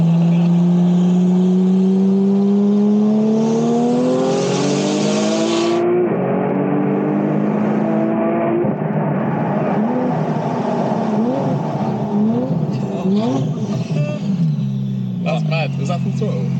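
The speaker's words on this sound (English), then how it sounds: "was that full throttle? That was full throttle." A Porsche 911 engine runs at full throttle on roads between roundabouts, its loud, close note sweeping up and down through several hard accelerations, with voices talking over it.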